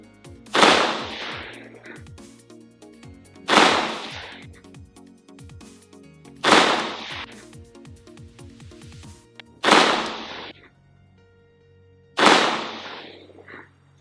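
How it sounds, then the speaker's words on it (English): A Tyr Defense T11 AR-15 pistol fires 69 grain hollow point rounds outdoors, five loud, sharp single shots spaced a few seconds apart, each cracking hard and echoing briefly. "So we'll send a few rounds down range with that,"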